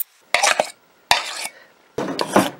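A spoon folds thick butter cream pudding in a bowl, making three close, short bursts of scraping and clinking against the bowl with quiet gaps between them and no talking.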